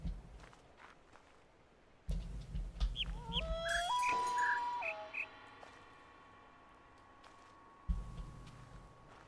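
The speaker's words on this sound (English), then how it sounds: "I am listening for a bird that chirps twice, then squawks once," Birds in the video game The Witness chirp in short, bright calls, a few quick whistles and a longer flat tone sounding close, framed by soft footsteps and low game ambience before and after.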